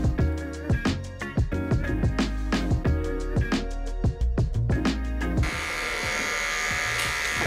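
An electric hair clipper buzzes steadily and loudly up close while a barber cuts a mid fade, with rhythmic strokes giving repeated pulses before a smoother, continuous hum.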